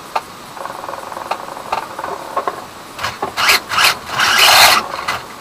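An HPI Sprint 2 RC car spins its wheels up, with scattered small clicks followed by short whirring bursts that grow louder and longer near the end.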